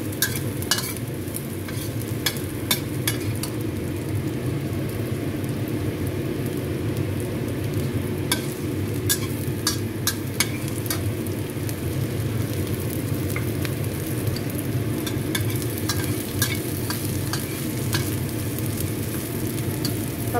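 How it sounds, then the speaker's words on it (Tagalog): Garlic sizzles and fries steadily in oil in a pan, a continuous crackle with occasional sharper pops and scraping stirs, fairly close and without speech. "Pababanguhin lang natin yung bawang"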